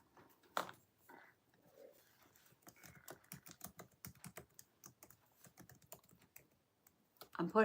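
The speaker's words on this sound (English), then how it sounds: "I'm typing it in." Close, quiet typing on a computer keyboard, a run of rapid irregular key clicks with a few short pauses and a louder clatter at the end.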